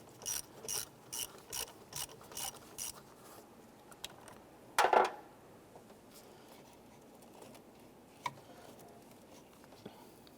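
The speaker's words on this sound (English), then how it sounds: "Go ahead, loosen and remove our positive terminal here" A ratchet clicks in a quick rhythmic series while loosening the positive battery terminal on a 1995-2001 Ford Explorer, followed by a sharp metallic clank and a few faint scattered ticks in a quiet space.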